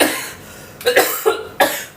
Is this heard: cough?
yes